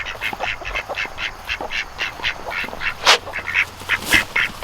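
Homestead ducks quacking steadily in a rapid series of close, loud calls, with a few sharper honks mixed in and no talk over them.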